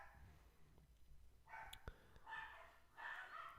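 Dogs barking in the background at a Chicago Cubs versus Atlanta Braves baseball game, with three bursts of barking heard over a steady crowd murmur in the stands.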